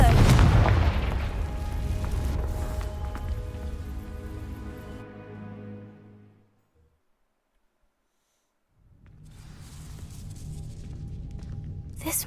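A Confringo fire spell blasts and ignites dry vines in Hogwarts Legacy: a loud, booming burst that rumbles and fades over several seconds into near silence, followed by quiet ambience.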